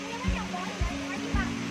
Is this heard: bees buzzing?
no